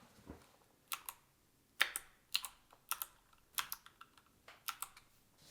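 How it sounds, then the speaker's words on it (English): Keystrokes on a custom mechanical computer keyboard come as sharp, clicky taps in irregular clusters, close and crisp against a quiet background, with no talking. "I want you to type really menacingly"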